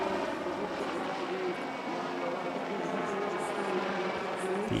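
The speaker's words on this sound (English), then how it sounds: "Another very high quality solo display came from the SW4 Puszczyk" A PZL SW4 Puszczyk helicopter flying a solo airshow display at Radom hums with a steady rotor and engine drone, moderately loud and constant at some distance, with faint talk mixed underneath.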